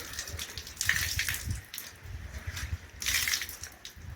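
Freshly picked mangoes rinsed under running water, a steady close splash and gush with brief louder surges, no talking.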